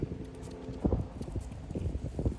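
A ridden horse clip-clops at a slow jog, its hooves giving a steady, moderately close rhythm of irregular hoofbeats, with no talking.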